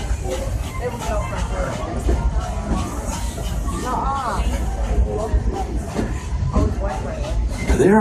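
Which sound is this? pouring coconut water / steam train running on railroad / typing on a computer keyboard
steam train running on railroad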